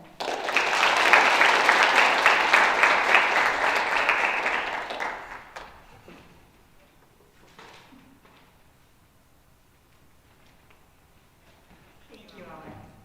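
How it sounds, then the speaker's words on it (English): A school honors night audience applauds loudly for a retiring staff member, a dense, steady wash of clapping for about five seconds that then fades out to near quiet. "please give a round of applause for Mrs."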